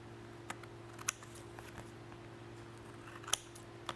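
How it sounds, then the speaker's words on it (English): Scissors trimming side pieces off card in a papercraft session, a few faint, sparse snips and light clicks against a steady low hum, no voices. "So you just literally go around and trim all those side pieces off."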